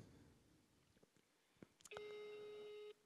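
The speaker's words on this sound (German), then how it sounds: "Ja, jetzt läutet es, jetzt hören wir es auch mir." A ringing tone sounds over a phone call held up to a microphone at a Christmas show in Feldkirchen, Austria: a single steady electronic tone lasting about a second after a few faint clicks and rustles.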